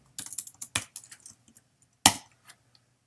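Typing on a computer keyboard while working in RStudio, a run of quick key clicks with short gaps and a couple of louder strikes, close and clear, with no talking.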